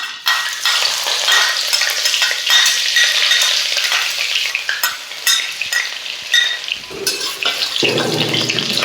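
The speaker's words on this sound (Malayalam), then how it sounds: "എണ്ണ ഒന്ന് ചൂടായി വരുമ്പോഴേക്കും നമ്മൾ ആദ്യമേ അരിഞ്ഞു വെച്ചിട്ടുള്ള ഇഞ്ചി വെളുത്തുള്ളി ചേർത്ത് കൊടുക്കാം." Loud, close sizzling as chopped ginger and garlic fry in hot coconut oil in an iron pan, a dense continuous crackle with occasional stirring scrapes and a brief clatter near the end.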